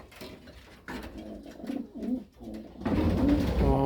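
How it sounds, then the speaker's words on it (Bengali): Pigeons coo repeatedly in a loft where a moulting bird sits close by, the low throaty calls rising and falling in uneven bursts and growing fuller and louder toward the end. "অনেক সুন্দর একটা কবুতর"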